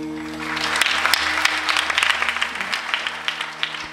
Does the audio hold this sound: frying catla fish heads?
no